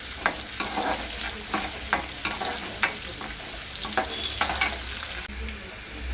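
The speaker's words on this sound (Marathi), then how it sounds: "कांदा आपण भाजून घेत आहोत" Onion roasts in hot oil in a pan for chicken masala, giving a continuous close sizzle broken by regular scraping stirs of a spoon about every half second.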